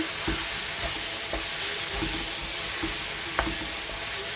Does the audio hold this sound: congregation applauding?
no